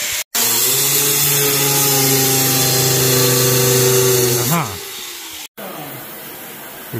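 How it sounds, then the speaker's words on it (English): A power tool shortening a metal bolt during a repair of a broken packer, giving a loud, steady whine with strong harmonics that holds for about four seconds and then winds down and stops. "He's currently shortening a bolt."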